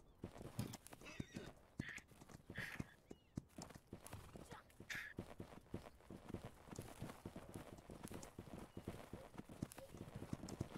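Horse hooves clip-clopping in quick irregular rhythm with several short whinnies in the Holdfast video game, fairly faint and close, under people talking.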